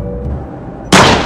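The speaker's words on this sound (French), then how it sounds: "C'est un coup de feu, il y a un indésirable à bord." A single sharp gunshot bursts out loudly in a Minecraft machinima after a quiet, low hum, then its echo decays.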